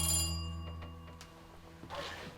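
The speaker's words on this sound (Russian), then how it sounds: "а то телефон разрывается." A telephone rings with a steady electronic bell tone, fading slightly over a couple of seconds before a burst of rustling noise near the end; fairly quiet, with no speech.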